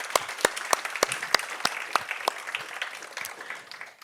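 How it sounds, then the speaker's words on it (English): A small audience claps after a startup presentation at a movie-night event, with several sharp claps close by over a softer wash of applause that tapers off. "Let's give them another big warm round of applause."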